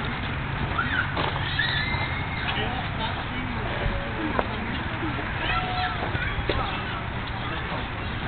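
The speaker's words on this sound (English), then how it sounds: "Riding the brown pony." A brown pony giving a ride walks with a steady clip-clop of hooves and lets out a whinny. Outdoor background noise and voices nearby run under it throughout.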